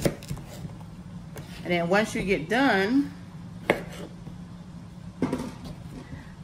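A knife cutting cabbage on a cutting board gives a few firm chops and taps, heard up close under a person talking, with a steady low hum behind.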